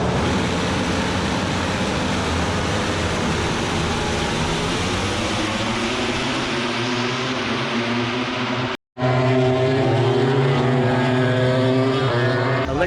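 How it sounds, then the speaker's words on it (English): MotoGP motorcycles roar together at a race start, a dense, loud wall of high-revving engines with rising pitch sweeps, briefly cut off before resuming. "Start of the MotoGP race."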